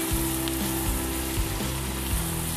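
Minced garlic added to hot oil with browned shredded ginger crackles and sizzles steadily in a frying pan, a dense close frying hiss with no talk.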